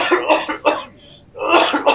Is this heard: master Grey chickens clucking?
no